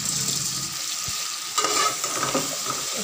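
Vegetables for a pethay ka salan sizzle steadily in a hot pan with yogurt and onion, while a spoon scrapes and stirs in a few soft strokes, close and continuous, no talking.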